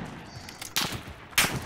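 Two sharp gunshots from a handgun in the video game Call of Duty, a quieter one then a louder crack about half a second apart, over low game background noise.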